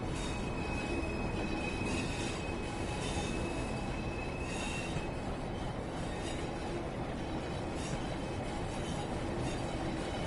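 Railway ambience from Train Sim World 5 with a class 47 locomotive, a Pacer and shunters in a station and sidings: a steady, loud rumble with squealing wheels and clattering throughout, and no voices.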